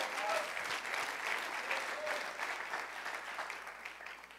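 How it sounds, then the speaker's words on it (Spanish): A church congregation breaks into applause during a Spanish-language sermon, a continuous, fairly faint crowd of clapping hands heard from some distance. "Nos den un aplauso fuerte al Señor."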